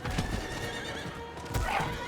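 A ridden horse in Diablo 4 gives a short neigh over thudding hoofbeats, with a second whinny-like burst near the end, close and fairly loud.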